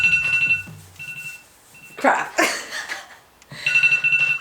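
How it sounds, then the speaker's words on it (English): A timer alarm beeps in repeated electronic bursts, stops briefly while a person mutters and rustles, then resumes its insistent beeping, close and loud. "Timer went off."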